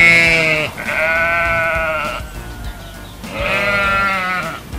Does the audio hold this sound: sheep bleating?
yes